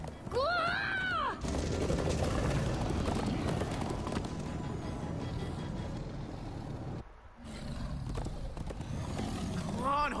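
Horses gallop with a steady clip-clop of hooves in the game Minecraft Story Mode, dense and loud throughout with voices and effects over it and a brief drop near the end.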